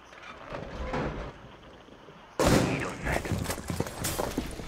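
Sudden loud gunshot bursts in Rainbow Six Siege after a quiet stretch, a sharp attack followed by several quick cracks and rattling impacts, close and prominent.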